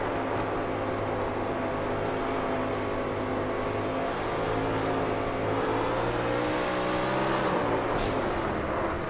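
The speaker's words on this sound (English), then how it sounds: "You can listen to the throttle." Onboard race car engine with Mark Jessup driving, a steady droning roar whose pitch shifts and bends as the throttle is worked, loud and continuous.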